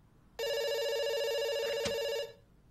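A telephone rings once in the video game Dr. Langeskov, The Tiger, and The Terribly Cursed Emerald: a steady, bright electronic ring lasting nearly two seconds, clear against a quiet background.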